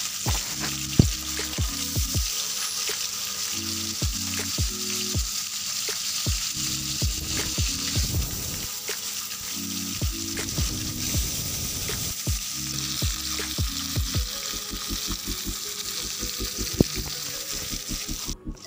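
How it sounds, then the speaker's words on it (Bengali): Oil sizzles and crackles steadily in a pan throughout, with a quiet melody playing in the background and occasional clinks of utensils. "তো মাছগুলো আগে ভেজে নিব"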